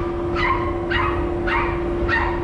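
A poodle barks at a pet hotel, four sharp, evenly spaced barks ringing out loud and close over a steady electrical hum and low background rumble.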